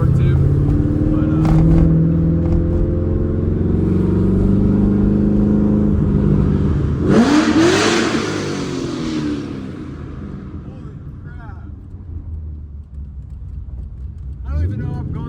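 A cammed C5 Corvette on straight pipes revs loudly while driving, a deep choppy idle rising into a sharp rev before settling into a lower rumble, with someone talking over it.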